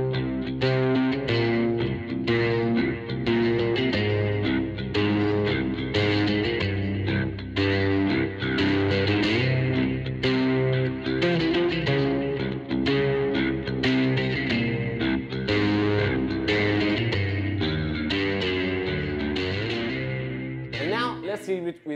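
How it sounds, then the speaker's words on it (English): Bass guitar through delay and a little reverb, playing a steady, dense riff with echoing repeats smearing the notes together, loud and continuous throughout, with a trailing wash of reverb fading at the end. "And now delay and a little bit of reverb."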